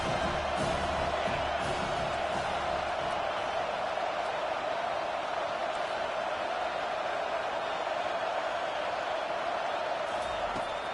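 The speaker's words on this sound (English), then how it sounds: "Here comes this home crowd as the defense tries to get off the field on 3rd down." A home crowd at a Penn State college football game roars steadily as the defense faces third down, a dense, continuous stadium wash that holds at the same loudness throughout.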